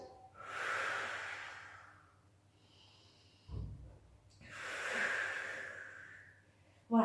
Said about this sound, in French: Soufflez, expirez, aspirez le ventre.